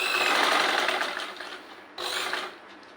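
A sewing machine runs steadily while stitching a maternity petticoat, a close, continuous whirring hum that eases briefly before resuming for a second short run.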